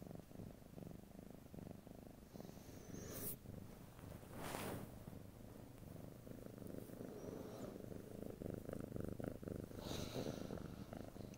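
Cat purring close to the microphone, a soft, low rumbling purr that goes on steadily throughout, faint, with a few brief rustles and no speech.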